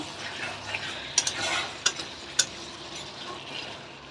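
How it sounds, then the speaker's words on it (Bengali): Potatoes being stir-fried in a pan with yogurt chicken: a steady close sizzle with scraping stirs and a few sharp spatula knocks against the pan, no voices. "এখন আমি দিয়ে দিচ্ছি তো আলুটা দিয়ে আবারও আমি এই তো ভালো করে কষিয়ে নিচ্ছি"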